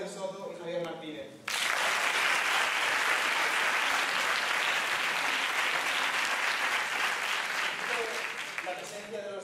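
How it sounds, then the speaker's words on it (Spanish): Sustained audience applause fills a debate tournament final, a dense wash of clapping that swells suddenly after a brief lull with voices and lingers steadily before tapering slightly. "El aplauso también es para vosotros"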